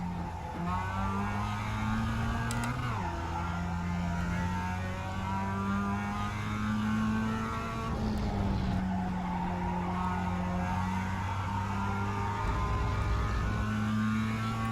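Race car engine from the iRacing sim, a Toro Rosso team car, droning loud and steady with pitch dips at gear changes and faint tire squeal, no voices.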